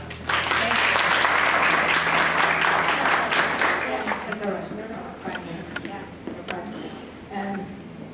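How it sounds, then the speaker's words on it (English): An event audience gives a loud, full round of applause that thins out after a few seconds into scattered claps, and then a speaker begins talking. "let's give her a round of applause"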